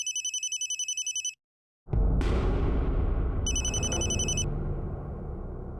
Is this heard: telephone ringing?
yes